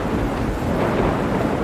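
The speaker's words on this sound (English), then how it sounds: "there's a huge crash of lightning" Deep, rumbling crash of thunder rolling steadily through a rainy storm, loud and broadband with no distinct onset, heard alone without voices.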